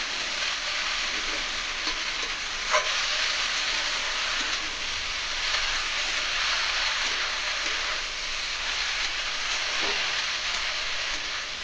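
Banana flower frying in spice paste in a pan, a dense, even hiss of sizzling oil with a few faint clinks, no voices.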